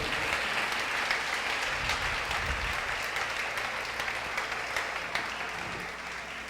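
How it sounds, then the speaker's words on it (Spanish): A church congregation applauds steadily after a sermon, a dense wash of clapping that holds at an even level and fades slightly at the end. "Dale ese aplauso al Rey"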